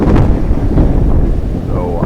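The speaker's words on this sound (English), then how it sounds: "we woke up a little bit to a nice little thunderstorm" A thunderstorm in Port Aransas rumbles loud and close, with heavy low thunder, steady rain and some wind buffeting the microphone throughout.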